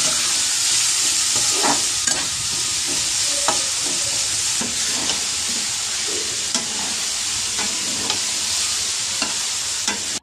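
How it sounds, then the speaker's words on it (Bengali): Beans and carrots frying together with salt and turmeric give a steady close sizzle, broken by repeated scraping stirs of a spatula throughout, with no voices. "তো এখানে বিনস তারপরে গাজর এইগুলো একসাথেই দিয়ে দিলাম, একসাথেই ভেজে নেবো"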